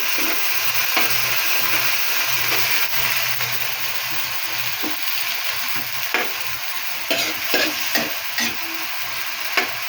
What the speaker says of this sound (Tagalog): ilalagay ko na itong karne.